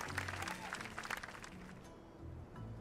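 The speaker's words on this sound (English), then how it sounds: "let's give a special round of applause for our core construction team" A crowd applauds in the game My Time at Sandrock, with a brief burst of clapping over low music tones that thins out midway and then returns faintly.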